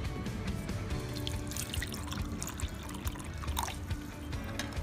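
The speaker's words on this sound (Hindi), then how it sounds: "पानी मिला देंगे इसमें भी।" Water pours steadily into a bowl of tamarind chutney, a continuous splashing trickle at close range with no talking.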